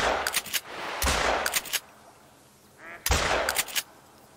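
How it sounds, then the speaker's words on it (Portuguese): Loud close shotgun-style blasts in theHunter: Call of the Wild while hunting ducks, three bursts of rapid cracking shots separated by quiet gaps, with a faint bird call between them. "Tentar matar mais de um com um tiro só."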